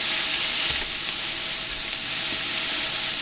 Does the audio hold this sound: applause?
no